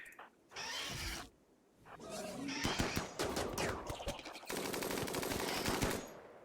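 Rapid bursts of automatic gunfire crackle in the Rimworld video game, a nomadic tribal colony battle, with several short volleys and a sustained fusillade toward the end, fairly loud, with a voice briefly talking over the shooting.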